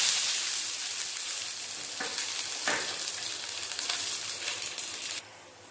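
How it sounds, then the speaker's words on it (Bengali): Cashews and raisins fry in white oil in a pan, a close, steady hissing sizzle with a couple of soft stirring scrapes, which then stops abruptly; no one talks. "কাজু আর কিশমিশ ভেজে নিয়েছি,"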